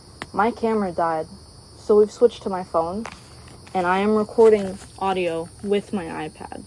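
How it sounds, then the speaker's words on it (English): Cicadas at sunset in Florida drone as a steady, thin, high-pitched buzz in the background, while a person talks over it in the foreground. "If you hear cicadas in the background"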